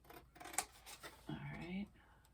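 Material for a storage box is cut with a couple of short snipping and rubbing sounds, close and faint, followed by someone speaking briefly.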